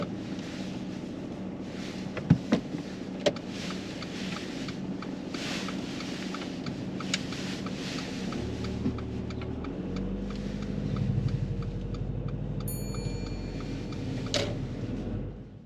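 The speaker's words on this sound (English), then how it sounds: "You can drive off whenever you're ready." A learner driver's car pulls away during a mock driving test, its engine rumble swelling and rising in pitch under steady wind noise, with no one speaking.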